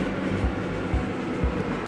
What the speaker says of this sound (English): as the train arrives at Hornsworth